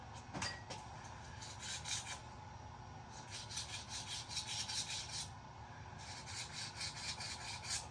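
A small part rubbed back and forth on a hard concrete floor to file it down, a gritty scraping in bursts separated by short pauses, fairly faint against a low background rumble.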